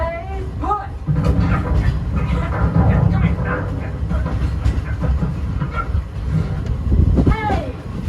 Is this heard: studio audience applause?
no